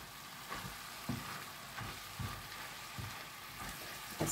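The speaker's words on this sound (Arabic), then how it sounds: "فهسه أقلب اللحم حتى أضيف عليه البصل ونسوي سباكيتي" Meat and onions sizzle steadily in a pan for spaghetti sauce, with a utensil scraping and knocking through them about every half second, close and moderately quiet.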